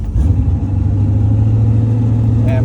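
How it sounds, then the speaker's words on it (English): A 1985 Corvette engine holds a steady, loud mid-pitched rev with the driver's foot off the accelerator, a constant droning note heard close up from inside the car, with faint clatter. "my foot is off the accelerator, and it's still revving"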